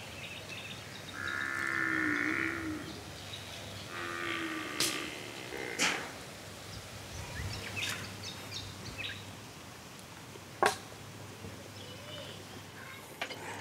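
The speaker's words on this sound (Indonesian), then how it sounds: "Kayaknya sapi-sapi yang tinggal di sini tenang banget ya." Cattle low in a couple of drawn-out moos early on, moderately near, followed by scattered sharp knocks and clicks against quiet outdoor background.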